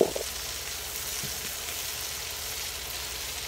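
Garlic sautéing in a pan for a keto dish, a soft steady sizzle running continuously at low level after a brief clatter at the start, with no voices.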